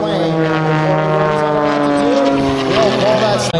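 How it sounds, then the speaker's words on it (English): A Sea Fury, a piston-engine fighter plane, roars through aerobatic snap rolls at an airshow, its loud, steady propeller drone shifting pitch as it manoeuvres, with an announcer talking over it. "the Sea Fury is one of the fastest piston engine aircraft ever built"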